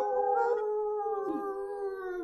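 A group of people at a festival gathering imitates a wolf howl, a long sustained wavering cry in unison, steady and fairly near.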